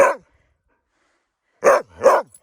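Dogs at a cabin in the Yukon barking at dinner time: one short, loud, close bark, a pause of silence, then two more sharp barks in quick succession.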